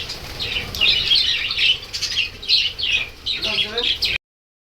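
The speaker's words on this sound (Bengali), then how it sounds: "এখানে আমি আপনাদেরকে যে বাজরিকা পাখিগুলো দেখালাম" Budgerigars in a bird collection chirp and twitter steadily in a dense, overlapping chorus with bursts of wing flapping, fairly close, with some faint background talk.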